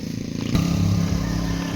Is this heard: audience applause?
no